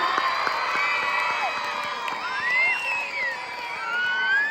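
A crowd of children cheers and shouts at a school sports opening ceremony. Their voices swell loudly, with only a faint trace of clapping underneath.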